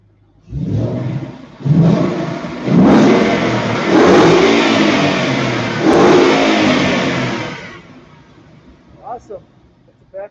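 A show car's engine revs hard in several long, loud bursts that rise and fall over about seven seconds at an outdoor car show, then drops away to quiet with brief faint sounds; voices are audible around it.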